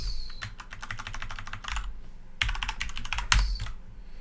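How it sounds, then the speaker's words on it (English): Quick, close bursts of keystrokes on a computer keyboard, rapid irregular clicking with short pauses in between, heard alone in a quiet room. "we will type the number to search for"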